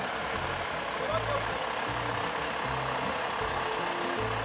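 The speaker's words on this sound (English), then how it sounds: "this truck is struggling with a tight turn, getting stuck by a fence" A heavy truck on a narrow, winding farm road edges through a tight turn beside a fence, its engine idling low and steady under rhythmic repeating reversing beeps, with broadband noise throughout.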